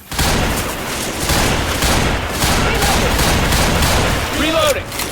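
Heavy shooter video game gunfire, a loud, dense, continuous barrage of shots close up throughout, with a brief voice near the end.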